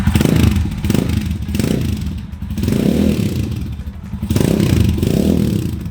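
A Speeder NSX 165 motorcycle with a dual-barrel exhaust revs up close, its engine rising and falling in repeated loud surges with no talk.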